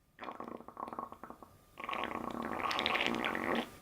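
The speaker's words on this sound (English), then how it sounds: "Now with even more fart." A jumbo squishy toy filled with slime is pumped and lets out wet, sputtering fart-like noises. A choppy burst comes first, then a longer, steadier squelching blast, close and loud with no talking.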